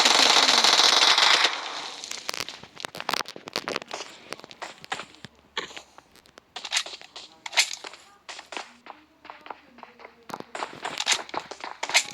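Firecrackers thrown at night in a street explode in a scattered run of sharp cracks and bangs, some rapid and clustered, near to mid-distance, following an opening burst of loud hiss.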